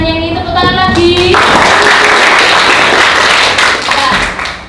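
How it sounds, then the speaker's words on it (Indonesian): An audience bursts into clapping during a classroom history presentation, a dense, steady patter of many hands filling the room after a moment of talk and music at the start. "Tepuk tangan lagi."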